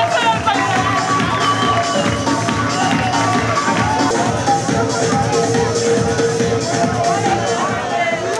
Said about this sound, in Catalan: Un fort aplaudiment per Super Thunder